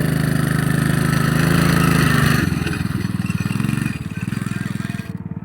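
A 110cc Gio ATV engine runs close by as a child rides, a steady buzzing drone that eases off after a couple of seconds into a lower, pulsing idle-like putter.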